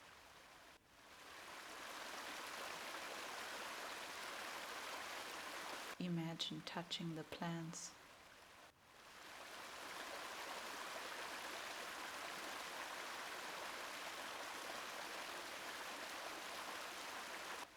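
Steady broadband rush of a flowing river beside a waterfall runs continuously, loud and close, with a calm voice speaking briefly over it partway through.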